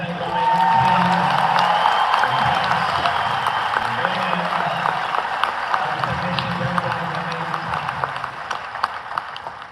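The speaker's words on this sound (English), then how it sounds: "please clap one more time and thank our amazing team" A church audience at a special program gives sustained applause that starts loud and gradually thins out, with a few cheers and voices mixed into the clapping.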